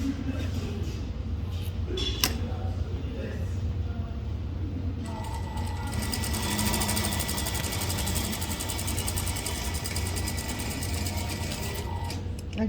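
A sewing machine stitches bias edging onto the right side of a seam allowance at a quarter inch, its steady rapid whirring starting partway through and running loud and continuous, with faint talk before it begins.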